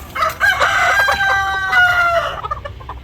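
A rooster crows once, loud and close, a long drawn-out call, with chickens clucking softly around it as it fades.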